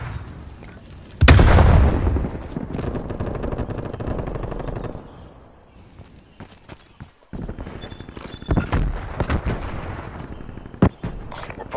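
A frag grenade goes off in Call of Duty Black Ops Cold War with a sudden loud blast. Sustained rumbling follows, with scattered gunfire and battlefield noise continuing afterward.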